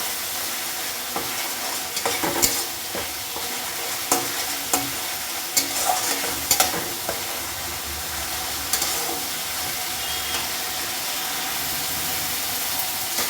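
Spice paste with sugar fries in a pan, a continuous close hiss and sizzle with irregular scrapes and clacks as it is stirred, no voices.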